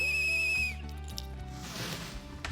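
A shrill, sustained whistle is blown in a video game and cuts off after about half a second, followed by quieter game sounds and ambience.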